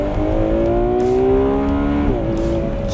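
Ferrari 12Cilindri Spider's naturally aspirated V12 revving hard toward 9,500 rpm, a loud, smooth, rising engine howl that climbs steadily, then drops at a gear change and keeps pulling, heard close from inside the open-top grand tourer.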